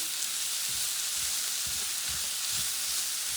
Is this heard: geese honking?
no